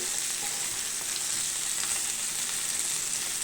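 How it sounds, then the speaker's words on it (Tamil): Masala-coated fish frying in oil in a pan, cooked through on both sides, gives a steady, close, even sizzle with a dense hiss that holds unbroken throughout, with no voices. "மீன் வந்து நல்லா பொரிஞ்சிருச்சு"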